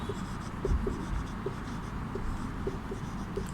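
Chalk or marker writing on a classroom board during a Hindi lesson, a series of short, faint scratching strokes in an uneven rhythm, quiet and close, with a low room hum beneath.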